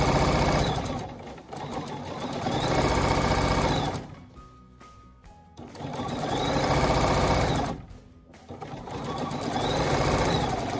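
A sewing machine stitches quilting, running in loud sustained bursts of rapid mechanical whirring, with short pauses between runs where the motor drops to a faint hum.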